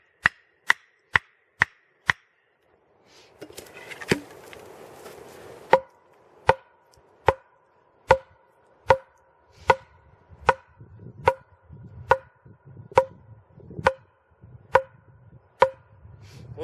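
Sharp, evenly spaced axe chops ring out as a wooden stake is sharpened in a winter forest, with a brief rustling scrape partway through before the steady blows resume.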